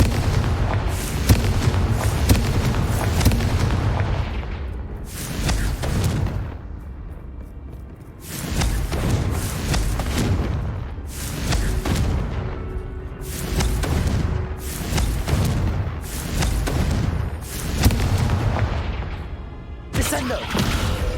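Repeated Confringo spell blasts in the video game Hogwarts Legacy: a long run of loud, booming explosive bursts, one after another with short gaps, thundering and crackling against game music.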